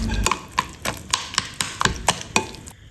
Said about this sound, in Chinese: 用勺子把瓜肉剥下来，然后杵成泥。